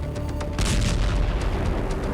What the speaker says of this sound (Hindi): मॉस्को आग और धमाकों से दहल उठा।